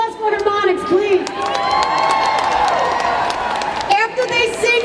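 A large crowd at the 2017 Women's March in New York City claps, cheers and whoops for a singing group, loud and sustained with shouts rising over the applause before it thins near the end.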